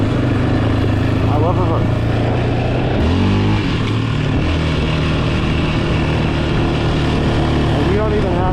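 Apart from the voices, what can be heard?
Yamaha Raptor 700 ATV engine riding on trails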